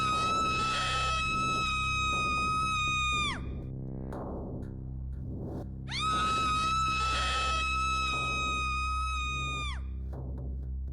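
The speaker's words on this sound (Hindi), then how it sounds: "चुड़ैल जोर जोर से चिल्लाती है।" A witch shrieks loudly in two long, sustained screams, each held for about three seconds and cut off sharply, with a brief quieter pause between them over a steady low rumble.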